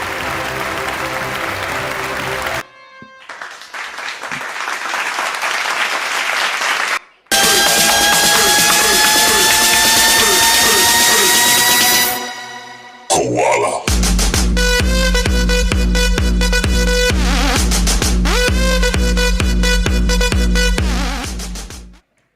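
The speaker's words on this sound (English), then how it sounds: "the awards ceremony is incomplete without the applause" At an awards ceremony, the audience claps in bursts between loud stretches of fanfare-like stage music, and the applause is mostly buried under the music.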